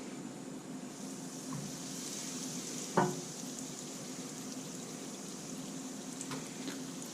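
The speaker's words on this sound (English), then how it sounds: "as per usual with frying like this, we're not going to crowd the pan with too many at once" Quiet, steady sizzling of fish fingers frying in a pan on an electric hob, with a soft clunk partway through and faint hiss throughout.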